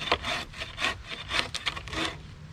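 A hand saw cutting through a log to buck it into firewood, heard as rhythmic rasping strokes of the blade through wood, about five pulls in quick succession, close and fairly loud with no talk.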